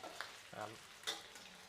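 An omelette with naem fermented pork frying in a pan, a soft sizzle with a few stirring scrapes and ticks, fairly faint and close, without talk.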